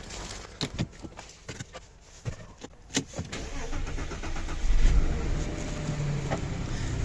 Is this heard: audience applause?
no